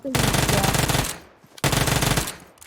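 Automatic gunfire in PUBG Mobile, two loud close bursts of rapid shots, the first about a second long and the second shorter after a brief pause.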